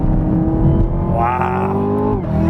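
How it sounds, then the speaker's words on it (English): A 2017 Chevrolet Camaro ZL1 muscle car driven hard on a track, its engine droning loudly and climbing in pitch as it revs, then dipping briefly before pulling again. "like a muscle car should sound, but it's a lot faster"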